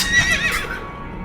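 A horse in a role-playing game whinnies once, a short loud neigh that trails off quickly, heard alone.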